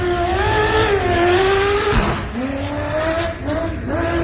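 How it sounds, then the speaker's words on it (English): A Porsche 952 race car engine at the Loveday 400 rally at Loveday 4x4 Adventure Park, loud and close, held near the rev limiter with a stuttering, popping drone that dips and rises again. "The rev limiter popping and protesting on the 952."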